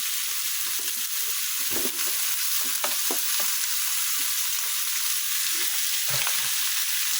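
Hard squash frying in a pan for pinakbet, a steady bright sizzle throughout with occasional scraping clinks of a spoon stirring, no talking.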